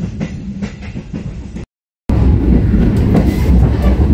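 Tegal Bahari passenger train running on rails, a steady loud rumble with rhythmic wheel clatter, broken by a short gap of silence before the rolling noise resumes.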